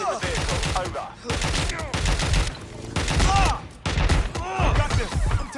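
Rapid bursts of gunfire in Watch Dogs Legion, loud and close, rattling in clustered volleys with brief gaps, mixed with shouted voices and impacts.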